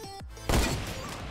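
A single sharp gunshot in the Fortnite video game cracks out loudly after a brief quiet, with its blast decaying into a rumbling tail.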